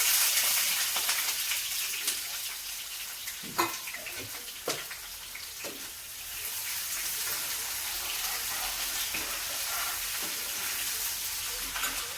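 Oil heating for a tadka sizzles and fries steadily in a pan in a home kitchen, a dense hiss throughout with a few sharper crackles and clinks of stirring, no voices.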